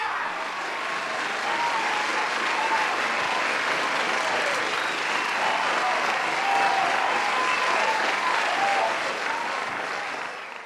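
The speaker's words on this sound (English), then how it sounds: "Give him a round of applause" Steady applause and scattered cheering from a crowd welcoming a guest onto a show, dense and continuous for about ten seconds before easing off at the end.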